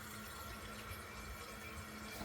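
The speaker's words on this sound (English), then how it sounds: "What that is the toilet is running" Steady, quiet trickle of water from a running toilet tank with a faulty fill valve, a continuous faint hiss and flow with no talk.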